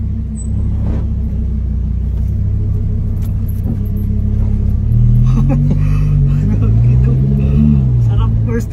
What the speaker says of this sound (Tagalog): First time kong mag-drive ng Lamborghini.